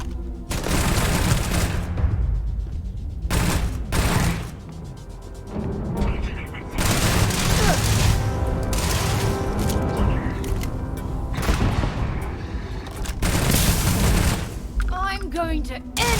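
A drum-magazine gun hammering out long bursts in the space RPG Starfield, loud and dense with booms and mechanical clatter, pausing briefly between volleys while a voice talks over the shooting.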